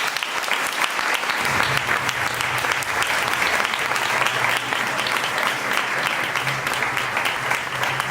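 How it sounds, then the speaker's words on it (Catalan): An audience at a municipal election candidacy presentation for a left-wing coalition bursts into sustained, loud applause, many hands clapping in a thick continuous patter, with a faint low murmur of voices underneath. "Un fort aplaudiment"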